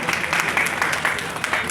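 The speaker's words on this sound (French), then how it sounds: "Je voudrais donc qu'on donne une main d'applaudissement au" Audience applause at a Montreal community association's general assembly celebration, dense steady clapping filling the room with a voice faintly mixed in beneath.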